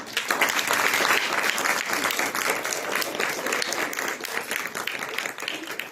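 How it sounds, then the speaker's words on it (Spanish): A crowd applauds steadily for several seconds, dense clapping that holds at an even level before easing slightly at the end. "vamos a brindarle un fuerte aplauso"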